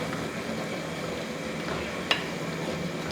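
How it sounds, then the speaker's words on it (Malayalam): A spoon scrapes and stirs cabbage curry in a pan over a constant soft sizzle, with one sharp clink partway through. "ഒന്ന് ഇളക്കി കൊടുക്കും"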